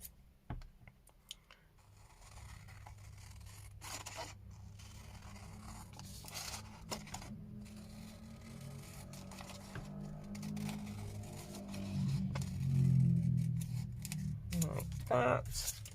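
Scissors trim a sheet of paper to shape a four-pocket junk journal envelope, giving a few sharp snips and clicks over a low, steady hum, with a person talking throughout.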